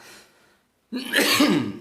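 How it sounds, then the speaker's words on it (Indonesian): A short burst of harsh coughing from choking, close and loud, after a brief quiet pause. "Aduh, agak batuk-batuk ini."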